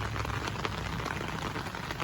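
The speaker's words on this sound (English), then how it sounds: "I love the fact that it's raining" Steady rain patters down beside a chicken coop, a dense, even hiss of drops on surfaces filling the whole stretch at close range, with no voices.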